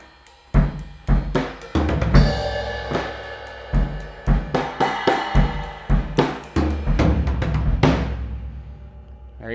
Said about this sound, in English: they're just a bundle of really tiny drumsticks put together, and they allow you to play a little quieter